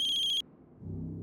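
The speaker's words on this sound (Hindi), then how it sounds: "सनी के राजकोट वाले घर की लैंडलाइन से फोन है।" A landline telephone rings in a home in Rajkot, a bright electronic trill pulsing rapidly for under half a second before it cuts off, followed by low muffled rumble.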